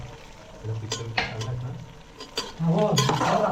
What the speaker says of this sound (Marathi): तर हे मस्त फोडणी घालून घेऊया